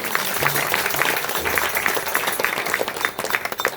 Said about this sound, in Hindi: गुरुदेव भगवान के लिए जोरदार तालियां बजा दी।